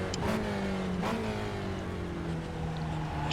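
A Spec Racer Ford engine in the iRacing simulator at Spa-Francorchamps drones steadily as it accelerates, its pitch climbing smoothly after a brief shift, loud and continuous with no talk over it.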